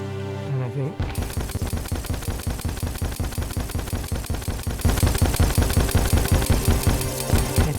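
A fast-firing homing weapon in Terraria Calamity shoots in a rapid, even stream of sharp shots that grows louder partway through, with no one talking.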